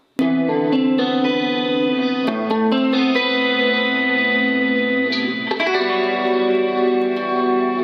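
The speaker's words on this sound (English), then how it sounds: "Stick a bit of modulation on." Sustained guitar chords through a Blackstar Silverline guitar amp's modulation effect, with a lush, wavering chorus-like modulation and spacious reverb, ringing out loudly with no talking.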